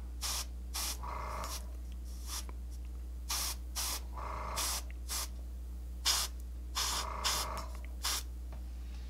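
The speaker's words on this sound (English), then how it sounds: "To add some highlights, I'll use Murderous Magenta through the airbrush once again." Airbrush spraying very thin magenta paint onto a miniature, short hissing bursts in an irregular stop-start rhythm over a constant low compressor hum, close and fairly quiet.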